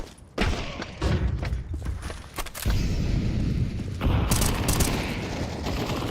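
Flashbangs and grenades going off in a tactical shooter game, several loud close booms and blasts in quick succession with rumbling noise between them, no voices over them.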